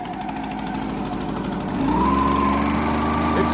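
An engine that has just been started chugs with a rhythmic, mower-like clatter. It then rises to a louder, steadier idle, running close and continuous.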